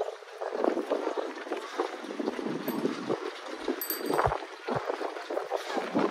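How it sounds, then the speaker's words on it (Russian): Wind buffeting a microphone outdoors near Olympic Park in Adler, a continuous rough rumble with gusting surges and a few faint bright ringing tones, no talking. "Тут какой-то ветер поднялся."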